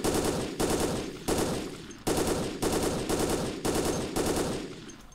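Rapid automatic gunfire from the zombie shooter video game Dead Effect, fired in repeated sustained bursts with brief pauses between them. It sounds loud and close, with no talking.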